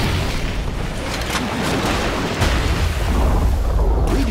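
Radiant's bottom tower crumbling in Dota 2, a dense rumbling game boom swelling over a steady wash of battle noise and louder in its second half, with no voice over it.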